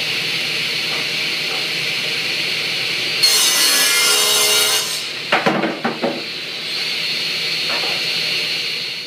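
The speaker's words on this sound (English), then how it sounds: "Up next, the table saw." A table saw ripping through whiskey barrel staves, a loud rising whine of blade in wood for a couple of seconds, followed by knocks and shuffles as pieces are handled, then a steady machine hum.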